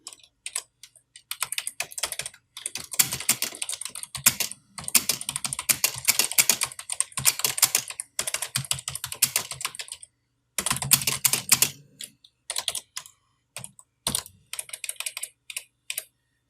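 Fingers type rapidly on a computer keyboard in the InPage publishing program, dense bursts of close clicking keystrokes separated by brief pauses, with no talking.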